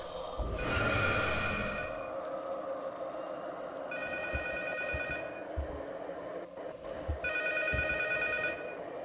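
Telephone ringing in the horror video game P.T., sounding in two bursts of repeated electronic rings separated by a pause, over a droning ambient background.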